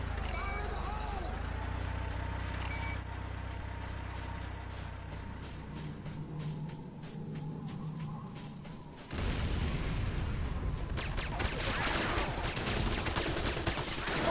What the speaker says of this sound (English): C4 is set. Fire the hole!